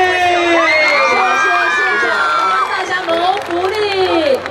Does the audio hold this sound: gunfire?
no